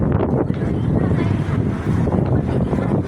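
Strong wind buffets the microphone with a constant, loud, rumbling roar that never lets up.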